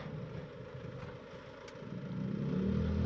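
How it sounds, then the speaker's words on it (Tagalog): A motorcycle overtakes on the right of a car in traffic. Its engine is heard under road noise and swells louder and closer as it draws alongside. "yung motor na yan o-overtake pa sa kanan"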